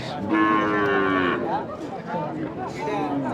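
Cows moo loudly and repeatedly over a busy crowd murmur at a cattle market in Tangail, with one long low call followed by shorter calls nearby.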